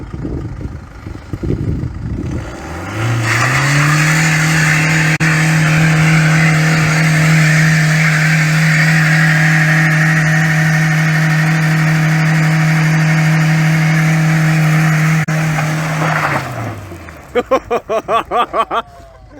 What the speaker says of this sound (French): le fumage de pneus du Berlingo HDI. C'est la roue avant gauche qui va patiner.